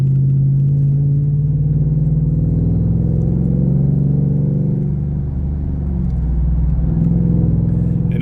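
Ford Coyote V8 truck engine with a 10-speed automatic gearing down, a loud steady low rumble and drone that holds through the whole stretch with slight shifts in pitch, no talking.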